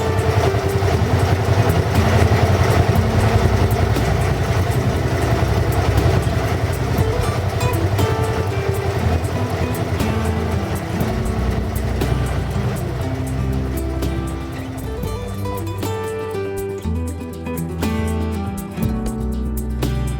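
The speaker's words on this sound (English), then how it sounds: "While the bike is still running out of fuel" A motorcycle engine runs steadily and loudly for the whole stretch as the bike is left idling to burn off its remaining fuel during winterization, a continuous low rumble with no talk over it.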